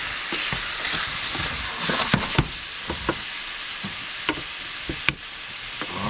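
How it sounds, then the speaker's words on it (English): Onions and mushrooms sizzle in a pan with a continuous crackling hiss, broken by several distinct utensil knocks and scrapes against the pan. "gonna put the onions in now, since those take a little longer to get soft"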